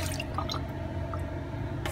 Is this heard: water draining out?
yes